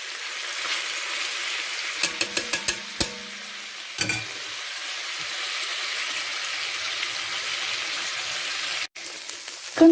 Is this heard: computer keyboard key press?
no